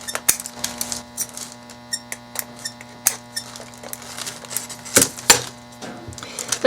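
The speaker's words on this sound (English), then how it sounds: "And then I can just clean that all up with a little file." A small hand file working the thin edges of a resin sand dollar coaster, producing a string of quick, irregular dry scrapes and clicks, close and fairly loud, with no talking.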